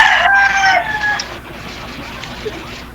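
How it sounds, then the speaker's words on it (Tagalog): A native chicken rooster crows once, loud and close, its call trailing off quickly into quiet farmyard background. "Kanina pa ho yan tilaok ng tilaok, oh."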